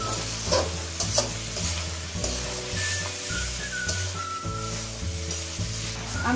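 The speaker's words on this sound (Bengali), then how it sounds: "ভালো করে কষিয়ে নিতে হবে।" Boiled potatoes and peas are stir-fried with spices in a pan, a continuous close sizzle broken by rhythmic spatula scrapes and knocks against the metal.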